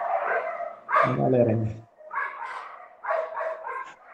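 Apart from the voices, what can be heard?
dog barking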